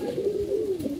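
Tournament pigeons in a loft, one of them moulting, give a single close, low, drawn-out coo with a slight rise and fall, heard alone without talk.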